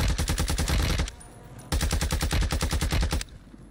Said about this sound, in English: he's getting shot from the other side.